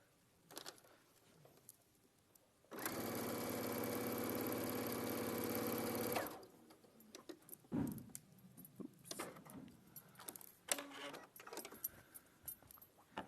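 A sewing machine stitches a quilt seam to its end in one steady, loud whir of about three and a half seconds, followed by quieter fabric handling, rustles and small clicks nearby.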